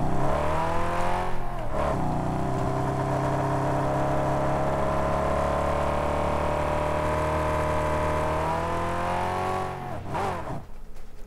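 Engine of a sluggish vehicle driven in the video game Mad Max drones steadily and loud for about eight seconds, the harmonic pitch swelling and then dropping as it slows, with no talking over it.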